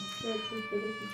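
A cat meows a few times in quick succession, faint and close, with a steady high-pitched tone humming in the background.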